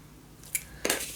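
Scissors cut a strip of paper along its full length for a Christmas scrapbook mini album, giving two quick, close snips in just over a second.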